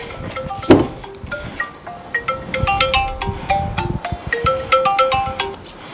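A phone ringtone plays a repeated melodic electronic tune for several seconds, loud and close, during a walkaround of a first-generation 2006 Toyota Vios 1.5 E at a used car lot.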